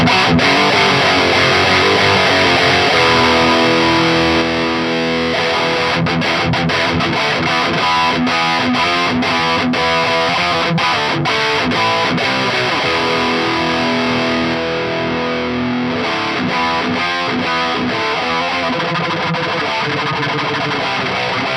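An electric guitar plays through a Mesa Boogie Badlander amp on channel 2, giving loud, sustained distorted chords with ringing harmonics. The notes change now and then and carry steadily from start to end.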